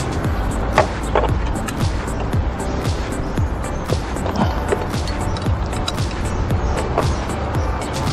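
Ratchet wrench loosening the top bolts on a motorcycle front fork, a busy run of close metallic clicks and clanks over steady workshop background noise, with no talking.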